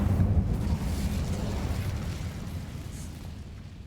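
Incendio fire spell cast in Hogwarts Legacy, a loud, dense whooshing burst of flame that rumbles low and gradually fades over a few seconds.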